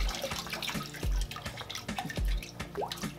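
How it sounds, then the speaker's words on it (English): Water runs and drips as aquarium filter media from an Aquatop Forza canister filter is rinsed under a tap, with irregular splashing and dripping close by, no talk. "Let's rinse it."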